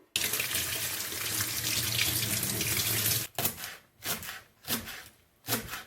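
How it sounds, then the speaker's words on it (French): Cut garden vegetables are rinsed under a running kitchen tap: a steady, close rush of water for about three seconds, then several separate splashing bursts as the flow is interrupted, with no speech. "Et maintenant je vais laver tout ça et couper ça en tronçons."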